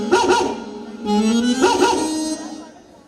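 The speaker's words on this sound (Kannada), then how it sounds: "ಆ ನಾಯಿ ನನಗೂ ಕಡಿತೇನ್ರಿ?" A dog barks in short yelping bursts during a village stage play, two quick yaps followed by a longer whining, howl-like cry that trails off, fairly close and loud.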